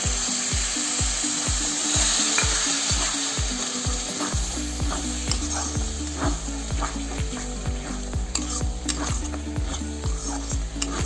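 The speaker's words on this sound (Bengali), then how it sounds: "যত সময় ফ্রাই করবো টমাটোটা ভালো করে ফ্রাই না হয়ে যাবে কাঁচা ঘ্রাণ চলে যাবে" Tomato paste made from three tomatoes frying in oil for an aloo baingan curry, a loud, dense sizzle that persists throughout, with a fast run of rhythmic spatula scrapes at first and then busier stirring and clatter, up close with no voices.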